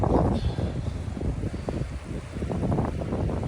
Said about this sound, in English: I don't know how much voice is coming through on the